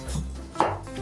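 Knife cutting through a cucumber on a board, a single crisp chop standing out midway through a short stretch of kitchen noise.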